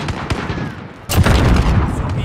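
A grenade blast rips through mid-round in a first-person shooter video game, a sudden loud burst that follows a quieter stretch of scattered gunfire and keeps rumbling with shots afterward.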